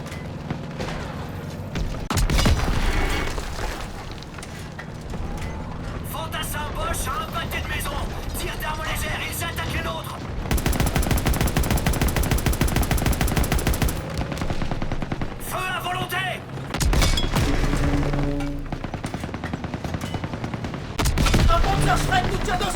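Gunfire in the World War II shooter game Call of Duty WWII, with dense bursts of automatic and rifle shots, loud booming explosions and a sustained rattling stretch of machine-gun fire, mixed with battlefield noise and voices talking.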